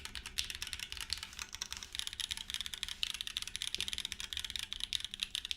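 A custom-built mechanical keyboard, resonant around the arrow keys, is typed on quickly and steadily, a dense close run of clacky keystrokes with a hollow ring and no talk.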